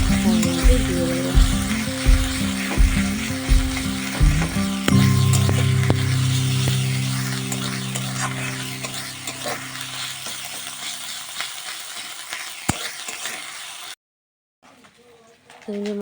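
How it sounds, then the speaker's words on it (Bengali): Turmeric and chili paste being stir-fried in a pan, loud scraping and sizzling at first that gradually fades and ends in near silence, with a voice speaking over it. "মশলাটা দেখুন কষিয়ে নিচ্ছি বেশ ভালোভাবে"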